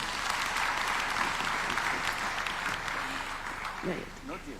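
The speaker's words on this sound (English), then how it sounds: "A big round of applause to His Excellency." Audience applause for the President of Kenya at the Second Africa Urban Forum in Nairobi, a moderate, fairly distant burst of clapping from a large hall that fades out, with voices near the end.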